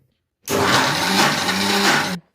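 A mixer grinder whirs loudly for nearly two seconds grinding gongura leaves, starting abruptly after a brief silence and stopping just as sharply.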